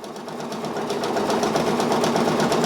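A Brother Persona PRS 100 embroidery machine stitches out a design with a loud, steady, rapid needle clatter and motor hum that builds slightly and then holds constant throughout.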